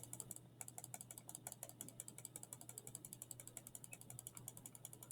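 Rapid, crisp computer mouse clicks come in a steady stream, dozens of light ticks close to the microphone over a faint background hum.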